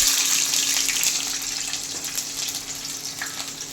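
Mustard seeds spluttering in hot oil in a pan, a dense continuous sizzle and crackle close up, loud and steady with no talking.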